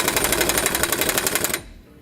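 An impact wrench drives a 1 1/8 inch socket, tightening nuts while a Roadmaster rear anti-sway bar is fitted on a 2016 Thor Windsport motorhome, giving a loud, rapid, hammering rattle for about a second and a half before cutting off.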